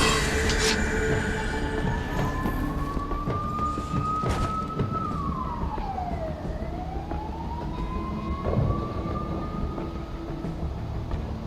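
A freight train rumbles through an underground railway in Metal Gear Rising: Revengeance, with a steady loud rolling drone and a long sweeping whine that rises, dips and climbs again, like a passing siren or wheel screech.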